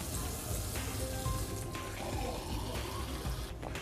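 Tap water poured into a glass, a soft continuous trickle and splash lasting a few seconds, fairly quiet and close with no talking.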